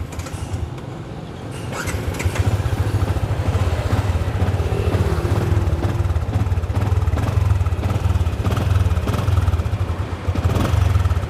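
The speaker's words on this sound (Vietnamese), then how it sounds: "Tuy nhiên á, cái máy êm ru rồi các bạn." A used manual-clutch Yamaha or Suzuki style underbone motorcycle engine idling smoothly at close range, a steady low throbbing rumble with light mechanical clatter that rises after a quiet start and holds evenly.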